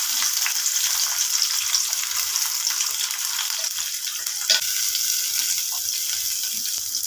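Chopped brinjal sizzles in hot oil in a pan, giving a steady, close, crackling hiss that continues without pause and with no talking.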